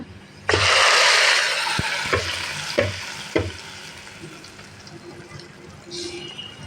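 Goat trotter nehari is poured into a hot pan, setting off a sudden loud sizzling burst that slowly fades, with a few scraping knocks and a low voice under it.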